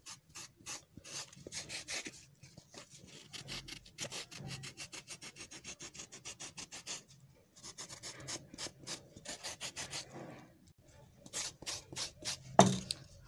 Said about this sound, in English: I start filing, following the shape of the insole